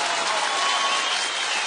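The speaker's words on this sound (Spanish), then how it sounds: "Aplausos para las mujeres, aplausos para las mujeres" An audience at a comedy show applauds the women, with dense continuous clapping that holds steady and fairly loud throughout with no talk over it.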